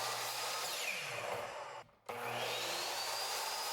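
A miter saw cutting wood pieces to length against a stop block, with a steady loud motor whine and blade noise that briefly drops out before spinning back up, close and with no talk.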